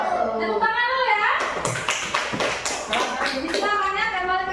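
A classroom of students claps their hands in a short, uneven burst of distinct slaps after a teacher speaks, with voices heard before and over the clapping as it fades.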